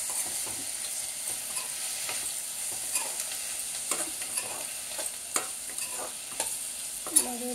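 Drumstick leaves and curry leaves frying in a pan for tamarind rasam, a soft continuous sizzle broken by frequent light scrapes and clicks of a spoon stirring, close and fairly quiet with no talking.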